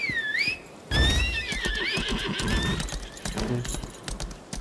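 A horse whinnies twice, the second call longer, with hooves clip-clopping underneath, in the video game Lost Ark.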